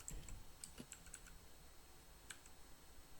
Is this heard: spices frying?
no